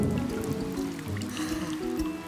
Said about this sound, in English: Is the rain ever going to stop?